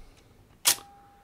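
The shutter of a Kodak Retina Automatic II camera fires once: a single sharp mechanical click followed by a faint fading ring, close and isolated in a quiet room.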